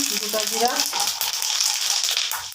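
Panch phoron spices hitting hot oil for a vegetarian pea dish, a bright continuous sizzle with light crackling, close and loud throughout, with a voice speaking over the start.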